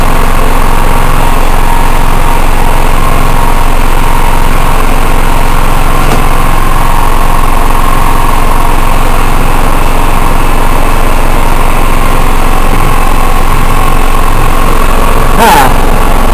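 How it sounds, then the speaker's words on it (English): A small generator engine runs at a steady idle, a loud, even drone that holds unchanged throughout, with a faint brief click or two partway through. "The engine's running, but that's really nothing."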